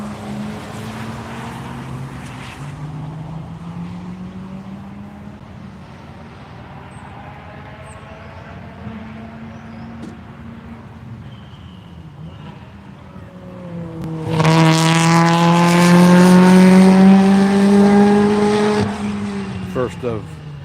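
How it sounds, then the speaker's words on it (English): A Hyundai Ioniq 5 N race car on a track approaches with a rising, building whine that turns loud and close before fading slightly, while a commentator talks over the quieter stretch beforehand. "Comes Andy Hollis in the Ioniq 5N."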